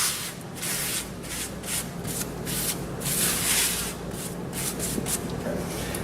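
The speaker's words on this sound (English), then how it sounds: "I'm just going to grab a paper towel, just get some of this loose debris and kind of sweep that out" A paper towel sweeps loose debris out of a Turbochef conveyor oven cavity, making a steady, close scratchy rubbing with rhythmic strokes and no talk.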